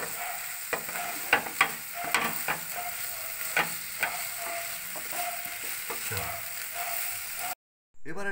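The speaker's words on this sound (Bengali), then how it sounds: "এবার এটাকে আস্তে আস্তে মিশিয়ে নেব।" Chicken balls being stirred into a mixture in a pan for gondhoraj chicken, with scattered scraping and clinking strokes over a steady background hiss, ending in a brief silence.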